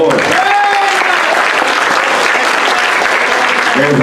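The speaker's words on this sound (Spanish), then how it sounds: "Un aplauso para él, por favor." Theatre seminar audience applauding a guest actor, steady dense clapping filling the room throughout, with a voice briefly audible over it.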